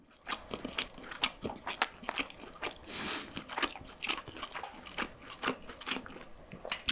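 Close, crisp bites and crunchy chewing of white chicken pizza with ranch mayo sauce, repeated in quick uneven bursts with no talking.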